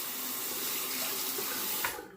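Running tap water rinses lather from a Merkur Progress safety razor, a soft steady splashing hiss for about two seconds that cuts off abruptly at the end.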